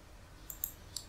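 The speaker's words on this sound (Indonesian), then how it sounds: "Kita coba di sini mengetik." A few sharp, faint clicks, roughly three separated taps, from typing on a computer keyboard in a quiet room.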